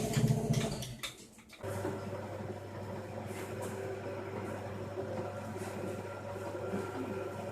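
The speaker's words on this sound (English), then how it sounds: "That's the sound of a quad bike with a wheelie bin getting dragged behind it." A quad bike drags a wheelie bin behind it, giving a steady low engine drone mixed with rough scraping and rattling that carries on continuously after a brief clattering start.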